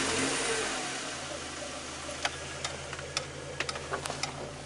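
A 1989 Toyota Tercel engine idles steadily and fairly quietly after starting, with light ticking clicks scattered over the low hum toward the end.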